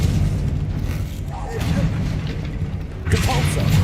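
Confringo fire spell from Hogwarts Legacy blasting with booming, whooshing bursts during a troll fight, heavy combat noise layered with a voice.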